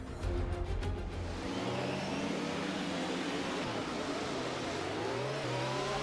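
An F1 car from F1 22 revs on track at the Canadian Grand Prix, a loud, high-pitched engine whine sweeping steadily up and down through the gears, close and continuous with no talk.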